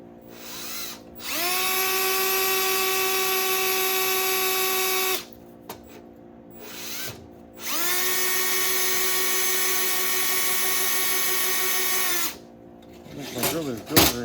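A power drill whirs loudly at a steady high pitch in two long bursts while drilling screw holes in a relay and solenoid panel, spinning up and stopping, with short quiet pauses and small clicks between.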